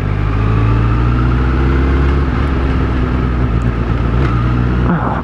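A Honda CBR1000RR Fireblade motorcycle engine while riding: a loud, steady engine drone with strong low harmonics and rushing wind, held at a constant pitch with a slight shift near the end.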